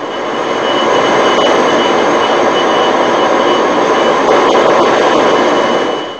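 Loud, continuous roar of an Indian Air Force jet aircraft flying low, a broad steady rumble and whoosh that swells in and fades slightly at the end.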